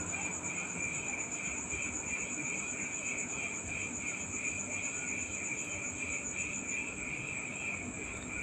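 Crickets or grasshoppers chirp outdoors in a steady, dense, high-pitched drone that continues without a break over faint low background rumble.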